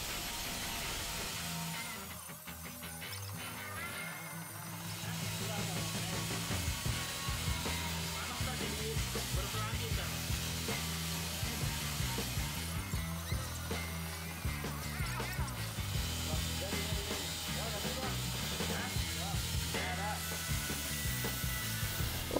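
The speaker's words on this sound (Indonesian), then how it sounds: "poles lagi dengan menggunakan mata poles non-woven. Tujuannya untuk menghilangkan goresan pada media stainless steel" A KYUHO LG 100 four-inch angle grinder with a non-woven polishing wheel buffs stainless steel. A steady, close motor whine runs with a scrubbing, rasping texture, dipping briefly near the start and then holding strong and continuous.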